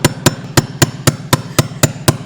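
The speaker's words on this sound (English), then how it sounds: "We're just going to tap that back on with a socket." A 15mm socket is tapped against a spacer on the transmission of a Yamaha Grizzly 125 or Breeze 125, giving nine evenly spaced, sharp metallic knocks that ring out loud and close.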